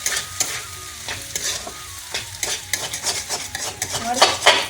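Egg and potato frying together in a pan, stirred with a metal spatula: continuous close sizzling punctuated by frequent clinks and scrapes against the pan, growing busier toward the end.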